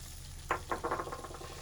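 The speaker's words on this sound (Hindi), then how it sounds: "अब हम इसमें डालेंगे ये हमारे पास 1 पाव खोया है, ये हम डालेंगे, ये इसके अंदर डाल के भुनेंगे।" Khoya roasting with chana dal in a pan over low heat gives faint sizzling and a quick series of soft spoon scrapes as the mixture is stirred.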